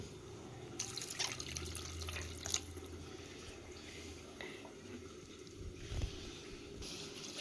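Half a glass of water splashes quietly into a pressure cooker holding minced mutton with fenugreek, onion and salt, a faint trickling pour against low kitchen background.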